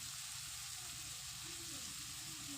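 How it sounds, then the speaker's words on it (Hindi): Cauliflower sizzles and fries steadily in a pan with coriander powder, Kashmiri red chili and turmeric added, giving a close, continuous crackle with no voices. "अभी इसमें मैंने मसाले डालने शुरू किए हैं, क्योंकि गोभी भी अच्छी तरह से फ्राई हो चुकी थी।"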